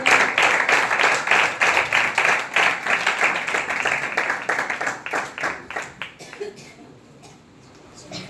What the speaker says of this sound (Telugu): అయ్యగారు వస్తుండగా అందరూ చప్పట్లు కొడుతూ మనం ఆహ్వానిద్దాం